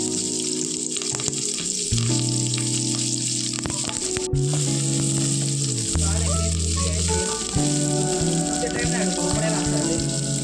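Curry leaves sizzle loudly in hot oil while frying for a Chettinad-style quail gravy, a steady close hiss throughout with tonal background music layered over it.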